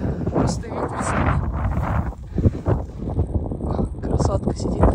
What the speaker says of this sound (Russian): Просто ветер сильный.